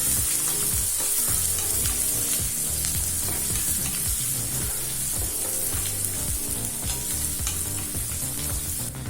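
Chopped onions sizzle and crackle steadily in a hot pan, with the scrape of a spatula stirring now and then, close and fairly loud.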